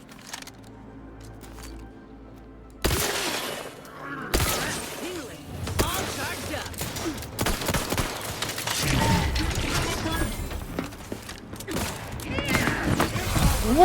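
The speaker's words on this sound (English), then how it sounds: "I think we're gonna have to open fire here." Gunfire in The Outer Worlds 2 video game comes as sharp bursts, thuds and impacts during a chaotic firefight, mixed with a voice talking over the action.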